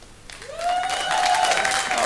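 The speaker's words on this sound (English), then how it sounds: "If you want to hear my poem, applaud." Studio audience applause swells in after a brief pause and holds steady, a moderate burst of clapping under a sustained musical tone.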